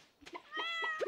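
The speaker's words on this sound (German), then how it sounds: "Ich sehe meine Katze dort sitzen und ihr fehlt Wasser." A cat meows in the video game Stardew Valley, giving a short, clear, tonal meow followed by a quick chirp, near and alone.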